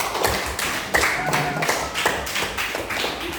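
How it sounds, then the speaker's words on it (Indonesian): Children clap together in a classroom in a run of loose, slightly uneven rhythmic claps. The clapping is close and steady and carries on without talk over it. "Beri tepuk tangan kepada kita."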